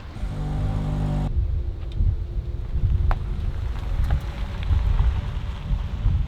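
A 2024 Hyundai Santa Fe on the road, heard as a steady low road and wind rumble inside the cabin after a loud start, with faint clicks and no speech.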